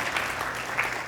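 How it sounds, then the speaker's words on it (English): An audience claps together in a soft, steady patter of many hands, heard from some distance and fairly quiet, with no speech over it. "You can clap again"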